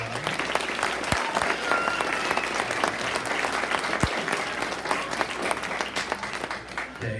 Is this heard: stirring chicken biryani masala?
no